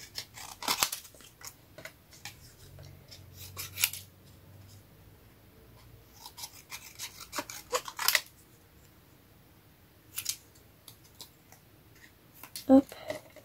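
Scissors cutting fabric while sewing a shabby-style pouch, a few short separate snips and clicks scattered between quiet gaps, with soft talk heard in places.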